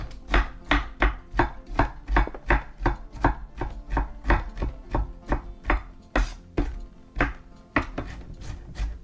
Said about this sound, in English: These pieces are a little big, so give it a little more chop.